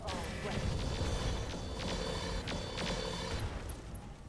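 Mech weapons fire in the game Roguetech as a dense, continuous barrage of booms and crackling impacts with sharp bursts, with radio-style voices talking over the gunfire.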